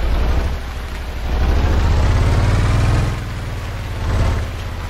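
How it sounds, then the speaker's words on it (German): A boat motor in the video game Stranded Deep runs steadily with a low, buzzing rumble that rises and falls in intensity, loud and close, like a lawnmower. "Motor an. Hört sich an wie ein Rasenmäher Sonntagmorgens."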